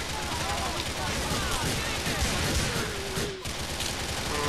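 Gunfire rattles through a firefight in the video game GTA 4 The Ballad of Gay Tony, loud dense shots layered over a busy game soundscape, with a brief dip near the end.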